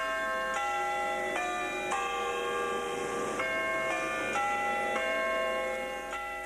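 Clockwork-driven bells of Invercargill's restored post office clock tower ring a chime sequence of about eight clear struck tones at a steady pace, each ringing on with lingering overtones.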